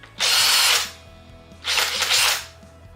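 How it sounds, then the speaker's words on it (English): A power drill bores through craft letters wrapped in tape in two close, loud bursts of high whirring, each about half a second long, with a brief quiet gap between them. "this is the drill I've used, and this is the bit I've used, and it's a complete mess because of all that tape stuff, so it's just too noisy"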